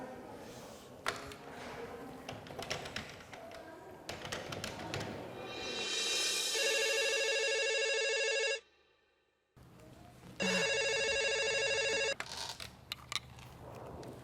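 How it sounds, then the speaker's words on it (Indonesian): A telephone ringing during a call in a drama scene: after some handling taps and knocks, a loud electronic ringtone trills steadily, cuts out briefly, then rings again, with no talking. "Bapak akan telepon ke rumah Tiara untuk konfirmasi masalah kalung ini"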